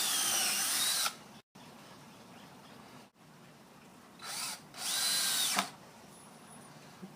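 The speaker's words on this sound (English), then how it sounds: "Pre-drill them just so the boards don't crack or what?" A power drill pre-drills deck boards in several bursts: a loud whirring spin-up, a pause, then two more whines of drilling close by, separated by quiet gaps with soft background noise.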